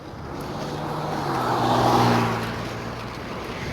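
A truck that had stopped in the middle of a road pulls away again, its low engine droning and swelling to a peak midway before easing off, heard from a moderate distance over steady traffic noise.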